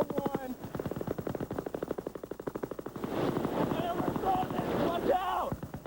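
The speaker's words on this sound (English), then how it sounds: "Now they're putting out suppressive fire to try and push back the attackers." Machine guns fire at a military outpost under attack, a dense run of rapid evenly spaced bursts giving way to heavier, rougher gunfire and commotion, loud and close with voices mixed in.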